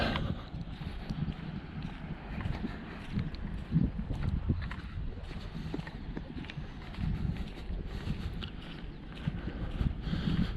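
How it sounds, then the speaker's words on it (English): Wind on a beach buffets a microphone with constant low rumbling and gusty thumps throughout, fairly loud with no one speaking. "I've just realised it's windy and you probably can't hear me anyway"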